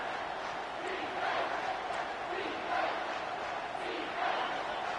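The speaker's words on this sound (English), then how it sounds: "this crowd will blow out a vocal cord to help this defense" A football stadium crowd roars and swells for the defense on third down during an Ohio State versus Nebraska game, a dense distant wall of cheering that rises in waves.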